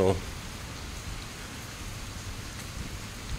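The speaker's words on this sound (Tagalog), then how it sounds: "Pero pag ganito na malakas ng ulan" Steady, dense rain hisses continuously at a low level in the morning, an even wash of drops with no voices.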